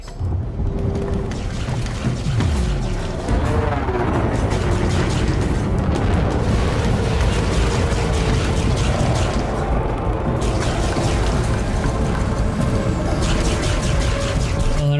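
Enemy fire strikes the player's ship in Elite Dangerous: a loud, continuous barrage of booming, rumbling impacts and crackling hits that runs unbroken throughout.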